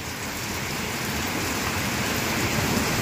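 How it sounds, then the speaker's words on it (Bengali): Heavy rain pours down in a thunderstorm with lightning, a loud, constant dense hiss of drops hitting surfaces, close and unbroken. "দেখো প্রচুর হারে বৃষ্টি হচ্ছে এখানে"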